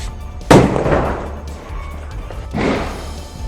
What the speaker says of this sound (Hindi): गेट जब पेट्रोल से भीग गया, तब आग के साथ बोतल को फेंककर बड़ा धमाका कराया गया।